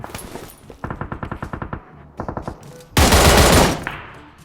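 Rapid bursts of automatic gunfire from the PUBG Mobile video game, loud close-range firing in repeated strings, ending in a dense roaring volley.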